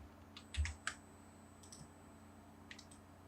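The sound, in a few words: typing on a computer keyboard in AutoCAD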